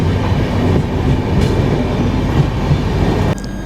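An Indian Tirupati–Puri Express with LHB coaches standing at Venkatagiri station platform, giving a steady loud rumble of rail and carriage noise that drops sharply near the end, with no speech.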